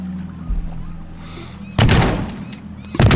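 Shotgun blasts in the video game Teardown, two loud booming shots about a second apart, each with a short rumbling tail, over a quiet background.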